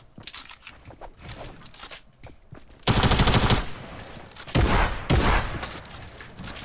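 Rapid bursts of automatic gunfire from a first-person shooter video game, with a dense loud volley in the middle and further sharp bursts after it over quieter background game sound.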